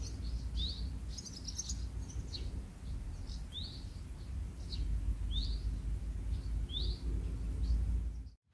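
Blackbirds and tits feed on ripe berries in a rowan tree, giving short, thin chirps that repeat every second or so over a steady low outdoor rumble, fading out at the end.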